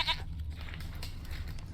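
A goat in The Witcher 3: Wild Hunt bleats in a short wavering call at the start, then fainter bleats follow over a steady low game-world hum.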